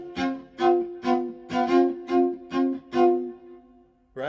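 An electric violin is played with classical as-it-comes bowing: a sequence of about eight bowed, pitched notes in a steady pulse, each swelling and fading with clear harmonics, loud and close, with no talk.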